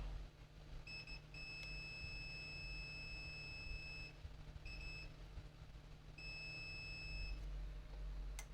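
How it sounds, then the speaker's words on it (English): A multimeter continuity tester beeps, a high-pitched electronic tone in three sustained bursts of varying length, clear over a low background hum. "I'll check again on the last pin, whether it's beeping to ground."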